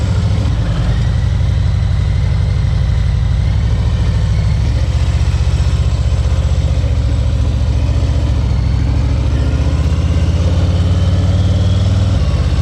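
A Harley-Davidson motorcycle engine idles steadily and loudly up close, a deep, continuous low rumble that holds throughout with a slight rise in pitch near the end, no voices over it.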